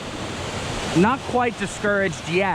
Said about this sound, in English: Got this cool ass waterfall.